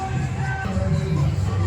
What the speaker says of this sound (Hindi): भक्तजन के काफी भीड़ छन, बहुते सब आयल छथि